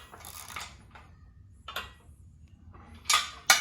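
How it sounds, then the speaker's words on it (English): A socket wrench ratchets while snugging a bolt on the frame of a Central Machinery 12-ton shop press. Brief metallic clicks and scrapes come in short separated bursts, close and fairly quiet, with two sharper clicks near the end. "I'm going to snug up one of these bolts to start"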